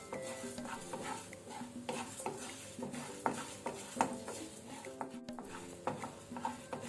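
Coriander seeds dry-roast in a pan while being stirred continuously, producing a busy rattling patter of seeds and utensil scrapes against the metal, close and fairly quiet, with no voices.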